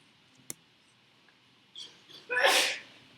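A single loud sneeze bursts out in a lecture hall, somewhat distant, after a quiet stretch of room hum and a faint click.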